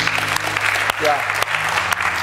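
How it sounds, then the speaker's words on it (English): Congregation applause in a church service, a dense wash of hand clapping sustained throughout with a voice calling out briefly over it. "Can we give the Lord a hand clap?"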